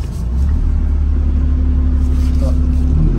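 From inside the cab of a tyre-mounted excavator, a loud, steady diesel engine rumble fills the whole stretch, deep and close with little change in pitch.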